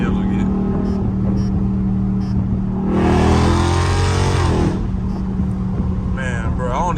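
A Dodge Charger or Challenger Scat Pack engine revs up loudly in traffic, rising in pitch for a couple of seconds before easing off, with a steady road rumble underneath.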